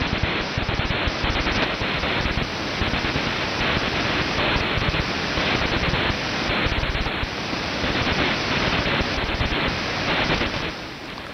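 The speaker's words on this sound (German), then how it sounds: "In einem normalen Rundfunkempfänger, der für zwei Seitenbandmodulationen ausgelegt ist, hört man nur ein getaktetes Rauschen," An AM broadcast receiver built for double-sideband reception picks up an unmodulated, keyed carrier as a harsh, even hiss that pulses on and off in a rapid irregular rhythm, loud and steady throughout.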